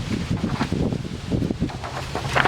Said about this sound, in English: Oh, it's getting windy again.